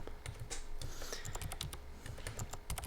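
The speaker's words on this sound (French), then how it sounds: "appuyer sur la bonne touche et essayer bien entendu de ne jamais regarder son clavier" Rapid typing on an AZERTY computer keyboard during touch-typing practice: a dense, uneven run of crisp key clicks and clacks, close and fairly loud, with no voices.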